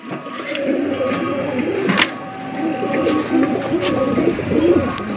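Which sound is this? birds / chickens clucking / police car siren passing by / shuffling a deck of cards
birds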